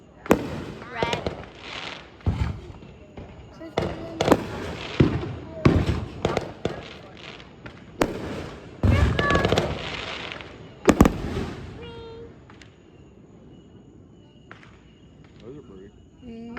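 Consumer fireworks going off nearby, a series of sharp, loud bangs and crackling bursts that come in irregular clusters, each ending in a brief fizzing tail, with a voice talking between some of the blasts.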